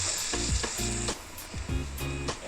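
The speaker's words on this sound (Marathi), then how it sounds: "आता त्याच्यात आपण मसाले टाकूया।" Steady sizzling of onion and tomato frying in a pan as spices go in for soybean pulao, a continuous close crackle broken by a few brief, tonal scraping strokes of stirring.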